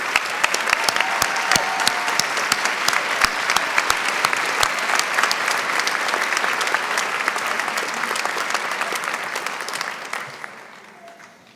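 Sustained round of applause from the crowd at a 2018 law school commencement for the graduates, dense and loud with a few sharp nearby claps standing out before it fades away at the end.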